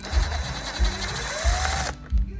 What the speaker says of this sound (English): start them with your impact gun, but finish them off with the screwdriver now